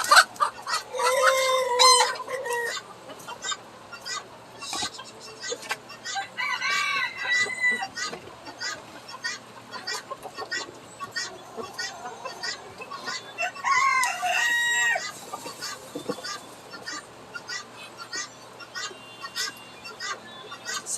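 Silkie chickens clucking and crowing in short bursts, close by and fairly loud, with repeated calls scattered across the whole stretch and some low background noise.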